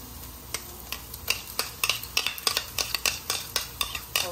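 Chicken being stirred and mixed with green paste and salt in a bowl, a steady run of sharp scraping clinks from a utensil against the dish, repeated roughly every third of a second, close and alone without talk.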